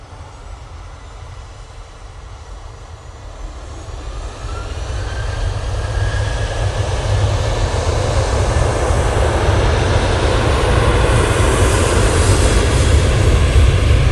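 Jet2 and EasyJet airliners approaching an airport, a distant jet engine roar that swells steadily from faint to loud and holds as a broad continuous rush.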